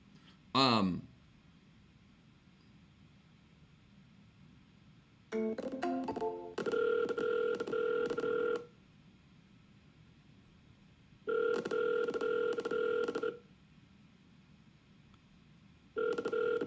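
An outgoing cold call is placed: quick keypad dialing tones come first, then a repeated electronic ringback tone in long bursts with pauses between them, heard clearly through a phone line.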